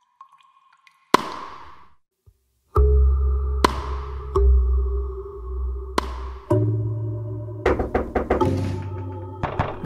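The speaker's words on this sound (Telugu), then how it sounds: "వెంకే డోర్ తీయరా, గేమ్స్ ఆడకరా నాతో, ఓపెన్ చేయరా, అరే డోర్ తీ." Knocking on a door in a Telugu horror short film: sharp, loud thumps in spaced single and double hits, then a rapid flurry of knocks, over a low droning tone with brief silences between.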